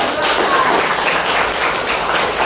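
Classroom applause for a student group during a teaching practice lesson: a short, even burst of clapping from many hands, loud and close, with no pause or talk over it.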